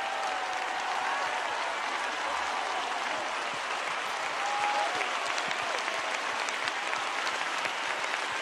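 Sustained, dense applause from a live concert audience, filling the whole stretch evenly with a steady wash of clapping.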